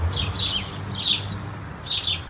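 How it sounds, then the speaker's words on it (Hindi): Several birds chirp and sing in short bright bursts through a German village, the calls recurring at a moderate distance over a low steady background hum, with no voices. "यहाँ पे तो पंछियों की आवाज़ भी बहुत ज़्यादा अच्छी आ रही है"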